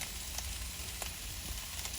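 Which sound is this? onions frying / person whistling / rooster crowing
onions frying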